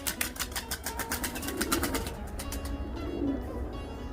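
Pigeons in a loft give soft, low cooing over a busy background of rustling and tapping, with the murmuring calls repeating close by.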